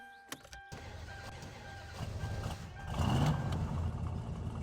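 Car engine in the game My Summer Car cranking and catching via the ignition, a low rumble that rises and settles into a steady idle, fairly quiet with no talk.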